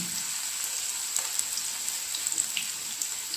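Slices of raw plantain, prepared as a vegetarian fish-style fry, sizzle steadily in hot oil with a dense, even crackle and occasional brief pops, close and alone.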